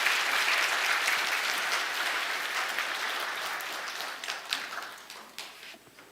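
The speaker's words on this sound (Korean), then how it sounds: "우리 축하의 박수를 한번 같이 올렸으면 좋겠습니다" Congregation applauding together at a Christmas celebration church service, a dense steady clapping that starts full and gradually thins out toward the end, with a few louder individual claps near the close.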